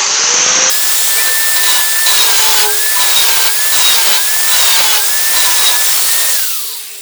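Small piece of sandpaper rubbed by hand over the body of a 1929 Chrysler: a steady, close, rasping scrape in rhythmic back-and-forth strokes, loud and continuous with no talking.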